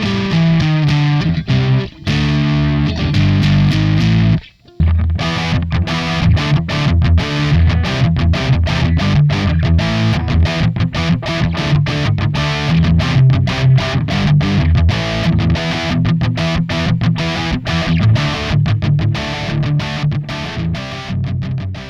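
Distorted electric guitar through a Marshall amp model on a guitar amp modeler, loud and continuous with chunky chords and fast palm-muted rhythmic strikes, one brief gap near the start, no talking.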